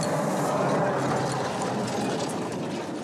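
A homemade machine used in Haiti to heat and fuse pieces of tire rubber together for repairs, giving off a continuous rough mechanical rattle and whir, loud and close, with no break across the clip.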